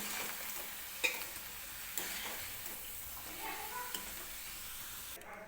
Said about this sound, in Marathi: तर बारीक गॅसवरतीच हे पापड मी तळून घेते सुरुवातीला.